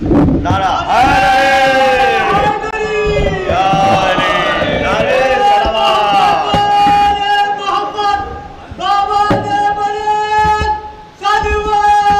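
A large congregation at a majlis in a Lucknow madrasa chants salawat together, loud massed voices rising and falling in unison, then repeating the chorus in sustained waves under a slightly reverberant hall sound.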